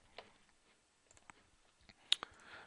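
Sparse, faint clicks of a computer mouse come through a quiet room, with a few soft ticks and one sharper click near the end.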